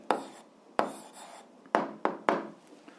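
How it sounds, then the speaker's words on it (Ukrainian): A pen writing an algebra answer by hand on paper, with a series of distinct scratchy strokes and taps, close and clear with no talking. "Ну що ж, записуємо відповідь, пишемо відповідь."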